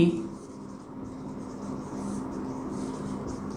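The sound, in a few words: writing on a board during lecture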